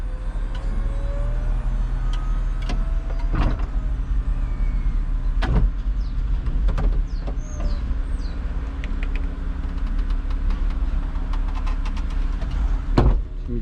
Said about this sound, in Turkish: Camlar kapanana kadar bu tuşa basılı tutmak gerekiyor.